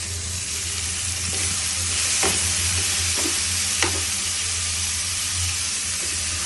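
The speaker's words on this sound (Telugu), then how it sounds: "ఇప్పుడు మనం చిక్కుడుగా వేయించుకోవాలి" Cluster beans frying in a pan give a steady close sizzle and hiss, with a few scraping stirs of the spoon across the pan. No voices.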